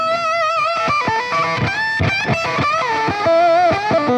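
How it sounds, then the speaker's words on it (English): Electric guitar played through an octave fuzz on a Fender Tone Master Pro modeler, with univibe, tape echo and plate reverb, gives thick, buzzy sustained notes in a quick melodic run. "They also put an octave fuzz."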